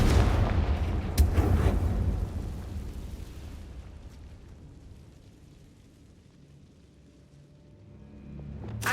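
Confringo spell explosions in the video game Hogwarts Legacy: a heavy, rumbling blast with a sharp crack early on, decaying into a long low roar, then a fresh burst swelling at the end.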